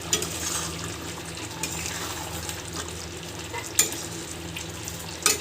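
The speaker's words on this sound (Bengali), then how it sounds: "হালকা হাতে একটু নেড়ে চেড়ে নিচ্ছি।" Mutton curry with garam masala in a pan, a soft continuous sizzle under light stirring, with a couple of sharp clicks of a utensil against the pan.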